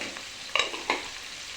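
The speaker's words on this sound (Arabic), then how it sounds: "واقلب مجرد ما اشم ريحه الثوم" Garlic with salt, cumin and seven-spice frying in a pan, with two quick spoon stirs scraping through a steady soft sizzle, close and fairly quiet.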